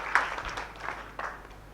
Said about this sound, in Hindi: इसके नाम से भी ताली मार दो